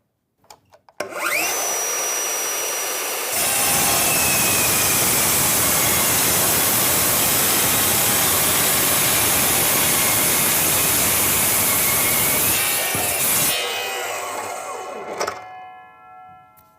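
A Bosch GCD 18V-355 cordless metal cut-off saw spins up and bites through 40 by 40 steel box section at a 45-degree miter, giving a loud, steady shrieking grind of roughly ten seconds before winding down.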